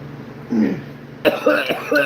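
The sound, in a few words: coughing after smoking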